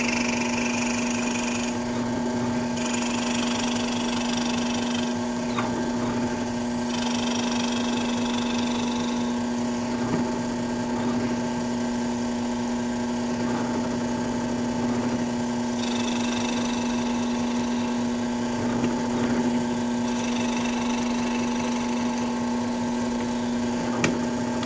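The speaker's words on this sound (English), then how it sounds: "drilling into wood." A drill bores steadily into a piece of wood, its motor holding a constant humming whine for the whole stretch, with brief surges of harsher grinding and no talking.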